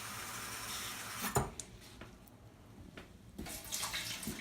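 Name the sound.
hot water poured into a pan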